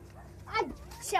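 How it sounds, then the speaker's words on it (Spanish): Dogs bark a couple of short sharp times close by, amid excited talking. "¡Hay unos perros aquí!"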